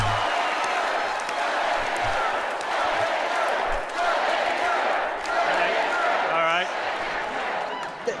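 A steady wash of crowd cheering and applause fills a stage show, loud and continuous throughout, with occasional thumps and a voice rising above the noise near the end.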